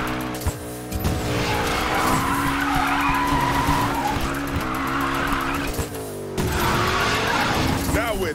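A McLaren drifting in Need for Speed, its tires screeching in long sustained squeals over a loud engine roar, broken by brief gaps and gear changes, close and continuous.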